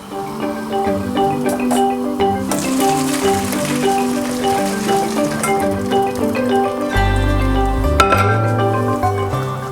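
Boiled water pours and trickles steadily from a pot of orange peels, with dripping and a light clink of metal as the flow continues.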